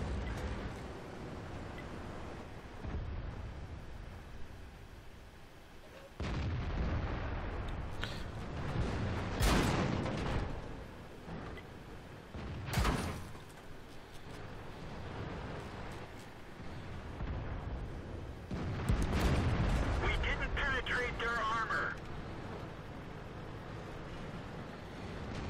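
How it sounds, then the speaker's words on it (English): Explosive blasts and heavy booms from enemy artillery fire in the World of Tanks tank battle game, several loud impacts scattered over a rumbling engine and mechanical background, with no talk. "Gotta keep on moving because of that enemy artillery."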